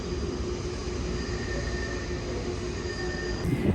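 A metro train runs with a steady, loud rumble of wheels on rail. A faint high whine persists throughout, and the noise grows slightly louder and brighter near the end, with no voices.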